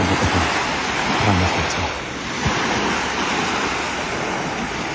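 Sea waves at a beach in Tetouan: a steady, loud wash of surf and breaking water fills the scene continuously, with faint voices low underneath.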